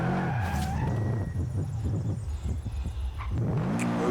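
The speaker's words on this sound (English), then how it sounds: "A lot of Subarus actually in this rally race." Subaru rally cars racing in Forza Horizon 5, with steady loud engine drone, revving and tire skids across the whole stretch, shifting pitch as cars accelerate.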